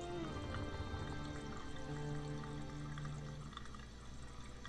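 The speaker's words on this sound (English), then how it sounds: "It's pouring out water." A sink faucet running in the adventure game Thimbleweed Park: a continuous soft stream of pouring water with light drips under a low musical hum, fairly quiet throughout.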